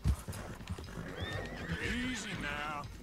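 A horse in Red Dead Redemption 2 gives a loud, wavering neigh alongside clopping hooves, with people talking over it.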